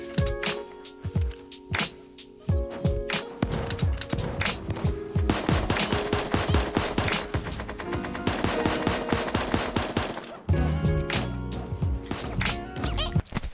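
Minigun fire in the cartoon battle royale game Super Animal Royale, loud rapid bursts of gunfire with short gaps between them and a heavier barrage in the middle, punctuated by other game sounds.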